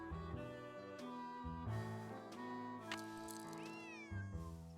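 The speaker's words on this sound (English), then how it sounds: "Stop meowing." A cat meows repeatedly in the Nancy Drew video game, the calls standing out clearly over sustained background music with no talking.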